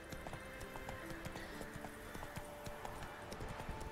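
Horse hooves gallop in the video game Witcher 3, a quiet, steady clip-clop rhythm that runs without a pause over faint background ambience.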